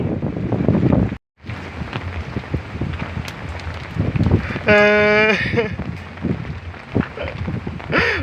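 Blustery wind and rain rush against the microphone in uneven gusts, with one brief tonal blast midway and muffled voices at times.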